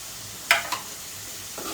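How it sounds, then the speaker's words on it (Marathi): Chopped tomatoes drop into a pan of sizzling onion, garlic, coriander and chili masala, a soft steady sizzle broken by a couple of sharp splattering bursts as they hit the hot oil. "त्याच्यानंतर मी याच्यामध्ये टोमॅटो घालणार आहे"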